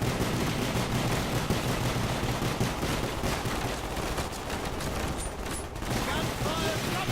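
Dense bursts of rapid automatic gunfire ring out in the Call of Duty: Black Ops video game. Close, loud and chaotic, the firing is continuous with overlapping shots and battle noise throughout.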